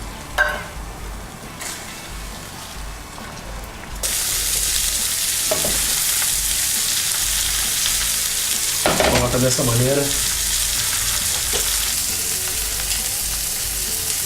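Water is poured into a pan of chicken sauce, and the hot pan breaks into a loud, steady sizzle with stirring scrapes over it, while a voice speaks briefly near the start.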